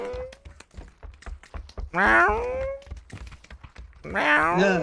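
A man mimics a cat's meow during a PUBG custom match with viewers: two drawn-out, wavering meows, close and fairly loud, with light clicks and taps between them.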